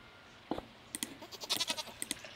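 A goat on a Stardew Valley farm bleating, a short cluster of several nasal calls close by over faint background.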